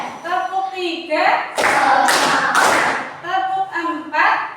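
A classroom group claps in a counted rhythmic chant, bursts of loud clapping breaking in between stretches of a teacher's voice.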